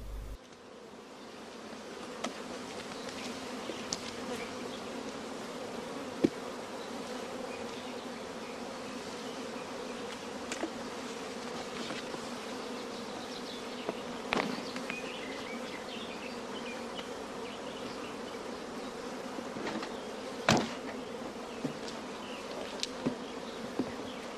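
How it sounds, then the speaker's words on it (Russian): Honey bees buzz steadily around a hive during breeding work, a dense continuous drone with occasional louder passes of individual bees close by, no voices. "В течение следующих часов в налетной семье собираются возвращающиеся в улей пчелы."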